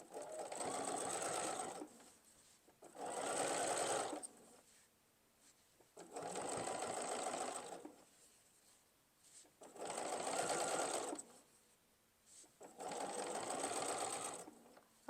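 Sewing machine stitching binding onto a quilt, running in five steady bursts of about two seconds each with short pauses between, close and clear with no talking.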